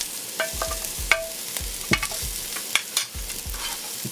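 Pimento peppers sautéing in a pot for Trini curried seim and potato, a soft sizzle broken by repeated scraping strokes and knocks of a spoon against the pot, close and unhurried, with no voices.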